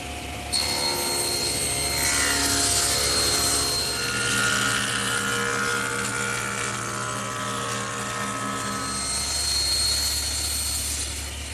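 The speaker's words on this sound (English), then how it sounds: "and then run it through my joiner again." A wooden furniture panel for a chest on chest is fed through a jointer, whose motor roars steadily while the cutterhead whines and rasps across the board for several seconds.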